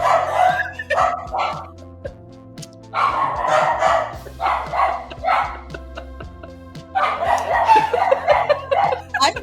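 Several dogs bark in repeated bursts of yips and bow-wows, loud and close, separated by short pauses and a steady background hum.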